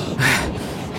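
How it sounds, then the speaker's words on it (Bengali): A cartoon traveller who has just run to catch a night train pants out of breath, a single close, breathy gasp swelling then trailing off. "হাঁপাতে লাগলো"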